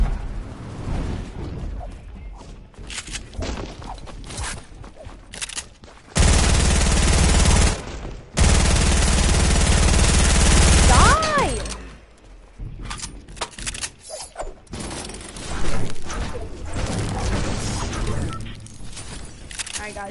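Rapid bursts of automatic gunfire from Fortnite, including an AR, crackle loudly in dense stretches with short gaps, mixed with game effects and some talking.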